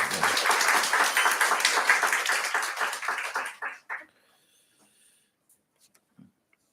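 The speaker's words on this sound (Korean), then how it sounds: "영광의 박수 다시 한번 돌리겠습니다." Applause from a Sunday worship congregation rings out full and lively for a few seconds, then thins out and dies away, leaving a few scattered claps and near-silence.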